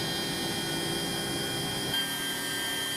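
An electric vehicle motor spins up past 12,000 RPM, giving a steady, loud high-pitched whine over a dense broadband rush that holds even throughout.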